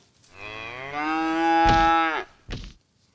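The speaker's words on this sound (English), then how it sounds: "Now all the cows are gonna die." A single cow gives one long, loud mooing call up close, rising and falling, followed by a short thump.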